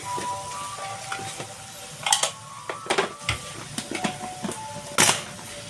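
Boiled potatoes are being mixed into fried spices in a pan for bread samosa filling, with scattered scraping and tapping of a spoon against the pan over a soft sizzle, irregular and fairly close.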